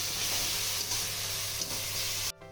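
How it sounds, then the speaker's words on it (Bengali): Chopped taro leaves fry in a pan, giving a steady, even sizzle with faint stirring that cuts off abruptly near the end, with no voices. "এবার আমি এটাকে ভালো করে একটু ভেজে নেবো"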